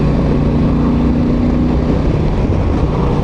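Honda Transalp 750 motorcycle accelerating in top gear, a loud continuous engine drone mixed with heavy wind rush, steady with a faint rising tone.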